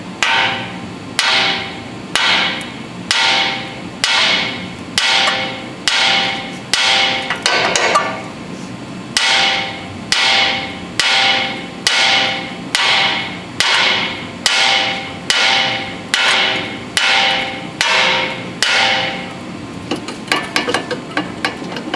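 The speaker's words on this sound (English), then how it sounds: "Hammer, I'm going to attempt to strike the knuckle to break the taper on this ball joint." A hammer striking a steering knuckle on a Honda CR-V to break a ball joint taper: about twenty loud, close metallic blows in a steady rhythm, each ringing briefly, followed by a few lighter taps.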